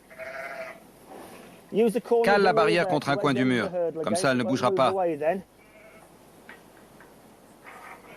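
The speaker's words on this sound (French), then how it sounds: "une brebis et un agneau en bonne santé qui va téter" A ewe and her lamb bleat in a barn on a Victorian-style farm. A loud, wavering bleat is heard first, then a long stretch of close bleats over several seconds, fading out, while a person speaks in French before and after.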